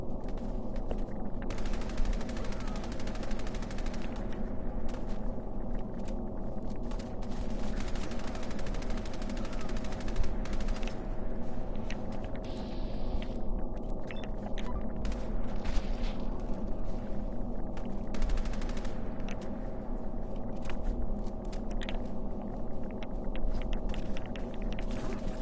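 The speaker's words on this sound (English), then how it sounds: "Okay, I'll try to use the machine gun." Sustained automatic gunfire from a machine gun in Fallout 4, dense and loud throughout, layered with rumbling explosions and battle noise with no pauses.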